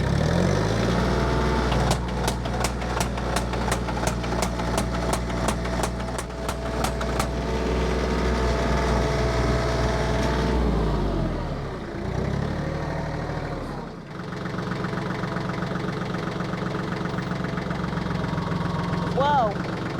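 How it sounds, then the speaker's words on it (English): A tractor engine runs steadily at idle while lifting on a fence-building job, a low droning rumble with a rapid knocking pulse, with brief louder strain and speech partly over it. "Whoa, lifting the tractor."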